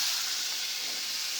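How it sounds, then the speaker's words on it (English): Chicken wings frying in a pan give off a steady, bright sizzle with a constant hiss and no pauses, close and even in level, with no voices over it. "We got our chicken wings frying."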